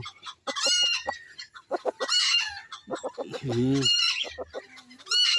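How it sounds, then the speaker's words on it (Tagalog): Bantam chickens cluck and crow nearby in a busy run of repeated calls, including one lower drawn-out crow near the middle, with little or no talk. "Yan ang bantam na pwedeng panglaban"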